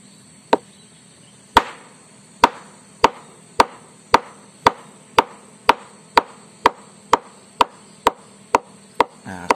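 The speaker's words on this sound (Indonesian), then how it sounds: "Di bawah bonggol ini kita pukul keras" A sugar palm flower stalk is beaten hard at its base, giving a steady series of about fifteen sharp, loud wooden knocks in an even rhythm, each decaying quickly, with a faint insect-like hum behind and no voices.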